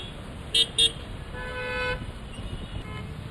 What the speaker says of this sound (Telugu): రద్దీ ఎక్కువ ఉండడంతో వాహనాలు నెమ్మదిగా ముందుకు సాగుతున్నాయి.